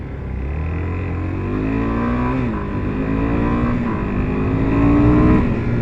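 A 2025 Suzuki DRZ 4S motorcycle engine revs up through several gear shifts, its pitch climbing, dipping at each change and climbing again, steady and close with a rise in loudness near the end.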